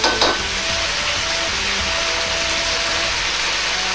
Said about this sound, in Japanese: ナスが崩れないようになるべくお玉を押し出すように混ぜ合わせます。